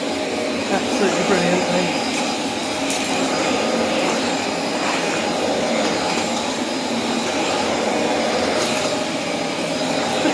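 A corded vacuum cleaner sucks up dust and dirt from a floor, a steady, loud motor whine and airflow rush running throughout while a person speaks briefly over it.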